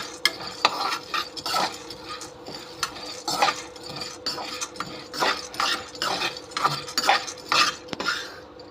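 A spatula scrapes and stirs roasted gram, black pepper, cumin and dried red chillies dry-roasting in a pan for idli podi, with repeated rhythmic scraping and clinks and no talk.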